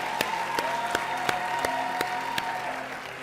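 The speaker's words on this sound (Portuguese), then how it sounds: "Aplaudam a Eve mais uma vez." An audience claps for a speaker at a talk, sharp claps falling in a steady, evenly spaced rhythm over a faint sustained tone, with no talking.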